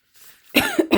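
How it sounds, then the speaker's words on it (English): A short breathy intake followed by two or three quick, close coughs in rapid succession. "I had a cough"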